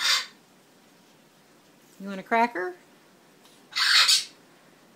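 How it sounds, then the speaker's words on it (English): A pet parrot lets out two loud squawks, one at the start and a longer harsh one near the end, with a voice talking in between. "city parrot. Big fluffy bird."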